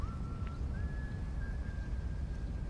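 Someone whistles a thin, sustained tune, a brief high note followed by a long held pitch, over a constant low rumble of background noise.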